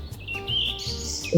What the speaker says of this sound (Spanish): Escuche los pajaritos que están sonando en este momento.